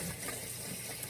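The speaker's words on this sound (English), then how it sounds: "So they say rinse it off" Tap water runs steadily over a smoked king mackerel fillet during rinsing, a soft continuous splashing wash that stays even and fairly quiet throughout.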